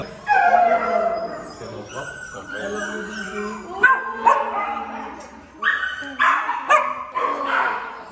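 Dogs at an animal shelter bark, yip and whimper in bursts, fairly close, mixed with people talking throughout.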